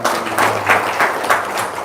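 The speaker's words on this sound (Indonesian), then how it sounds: "Tepuk tangan dong" Crowd applause from a seated audience at an Indonesian motivational seminar, a steady dense wash of many hands clapping with gentle swells, fairly loud and continuous without talk over it.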